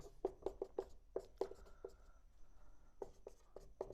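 Chalk or marker strokes scrape across a board during a physics lecture, a run of short sharp taps and scratches that pause midway and then resume, close and fairly quiet with no talk over them.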